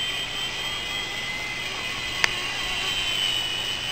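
Small E-flite Blade micro RC helicopter with aluminum boom and skids flying outdoors in wind, a steady high-pitched rotor whine and hum with a single brief tick partway through.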